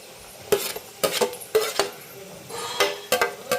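Chopped tomatoes stirred into golden-brown onions in a pan for egg bhurji, a series of sharp spatula scrapes and taps against the pan every half second over a light sizzle, close, no talk.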